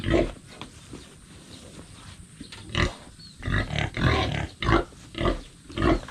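Pigs grunting and oinking at feeding time on a farm, several bursts of close grunts and squeals at uneven intervals.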